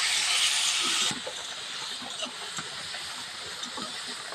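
Tomatoes fry in hot oil with a dried red chilli for tomato posto, opening with a bright steady sizzle that drops to a softer crackle with scattered pops and spatters.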